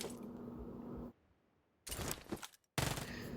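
Uzi submachine gun firing full-auto in PUBG Mobile, two rapid bursts of game gunfire separated by a brief gap of silence, loud and close.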